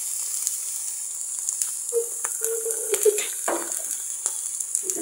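Garlic dropped into a pan already holding carrot and peas, a faint steady hiss of frying with scattered sharper sizzling bursts and light clicks as the pieces hit the hot oil, close and without talk.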